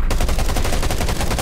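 Rapid automatic gunfire in the shooter game Undawn, a loud, dense burst of shots repeating steadily for the whole moment with no pause.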